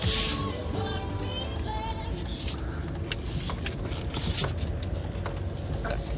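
A car driving in a convoy of vehicles on the road after a meal, heard from inside as a steady, continuous road and engine rumble with faint rattles throughout.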